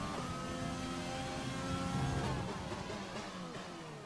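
Racing game car on a one-shot qualifying lap around the Vietnam circuit, its engine revving loudly with gear changes, pitch rising and dropping into the first corners.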